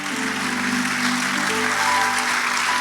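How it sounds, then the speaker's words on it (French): A church congregation applauds together in a steady, loud wash of clapping that continues without pause for a few seconds. "Acclame encore."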